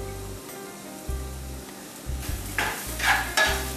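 Salted potatoes frying for achari aloo are stirred in a pan, with soft scraping and sizzling bursts that grow busier toward the end over a steady low hum.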